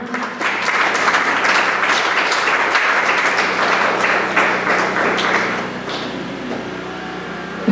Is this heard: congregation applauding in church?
yes